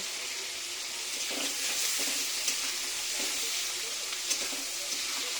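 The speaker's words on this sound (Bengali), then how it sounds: "ঝাল পেঁয়াজ সুন্দর করে কষায় তার ভিতর মাছটা দিয়ে ভালো করে কষায় নেব।" Salted hilsa fish frying in a pan with spicy onion and chilli, a steady bright sizzle with a few soft stirring scrapes and clinks, close and continuous with no voices.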